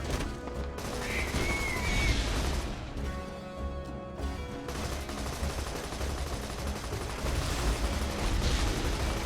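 Sustained gunfire in Borderlands 2 while shooting down enemy projectiles, a dense loud barrage of shots and impacts running through the whole stretch with a few brief gaps.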